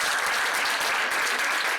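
An audience at a municipal campaign meeting in La Rochelle claps for a young candidate, dense, loud, continuous applause filling the whole moment.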